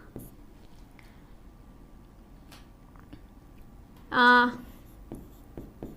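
A definition is handwritten with faint, scratchy pen strokes in a quiet room, with a brief voiced sound partway through.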